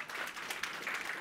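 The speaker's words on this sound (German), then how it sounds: "Applaus" A small audience at a company trade-fair presentation gives a brief, faint round of applause after a talk.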